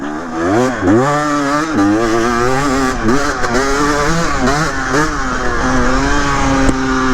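A KTM 250 XC dirt bike rides a woods track, its engine loud and close, revving up and down in quick, rising and falling bursts as the rider works the throttle without pause.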